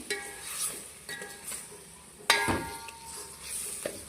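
A vangibath mixture with tamarind juice is stirred in a cooking pan; a spoon scrapes and clinks against the metal in uneven strokes over a light sizzle, with one sharp knock near the middle.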